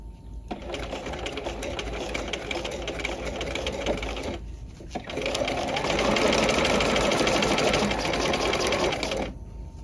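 A sewing machine runs rapid extremely short stitches, 0.5 to 0.75 length, on a tab welt pocket, in two long buzzing bursts separated by a short pause, close and loud, with a faint voice.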